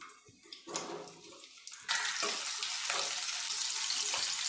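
Chopped onions go into about two spoons of hot oil in a pan for a tomato onion gravy, bursting into a loud, steady sizzle partway through that continues to the end, with no talk.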